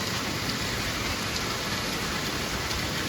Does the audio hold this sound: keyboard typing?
no